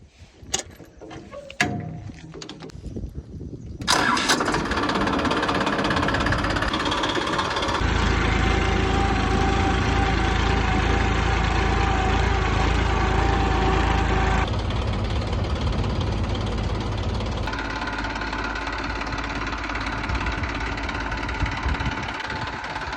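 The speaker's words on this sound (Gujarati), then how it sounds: "હવે આપણે ટ્રેક્ટર ચાલુ કરવાનું છે" A tractor hitched up in a farm field cranks after a few faint clicks, then settles into a loud, steady diesel idle that runs on unbroken with a slight shift in tone partway through.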